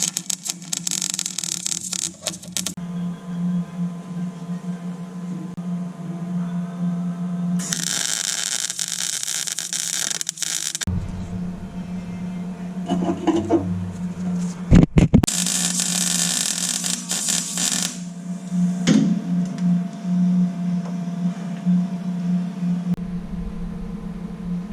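Tack welding of frame connectors on a 1967 Chevrolet Nova: three separate bursts of harsh, crackling welding hiss, each a few seconds long with pauses between, over a constant low electrical hum, with no talking.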